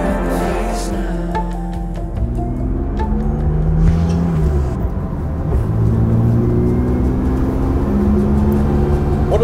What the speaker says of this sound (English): One of the things I absolutely love about this car is how smoothly it accelerates